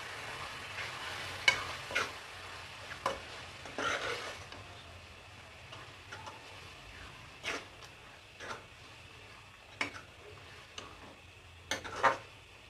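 Thick yogurt is stirred into fenugreek leaves and potatoes frying in a pot for Punjabi aloo methi: a soft, low sizzle with sporadic spoon taps and scrapes, quiet and close with no talking.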